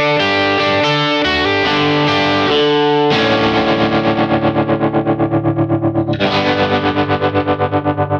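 Distorted electric guitar through a Kemper amp with reverb switched on plays loud chords that ring out and sustain with a rhythmic, pulsing shimmer; no one talks over the playing.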